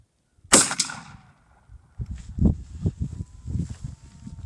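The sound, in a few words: shotgun firing buckshot through modified choke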